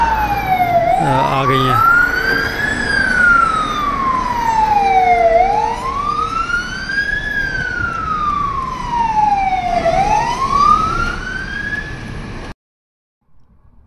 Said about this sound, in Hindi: ये फायर ब्रिगेड की गाड़ियाँ देखें कैसे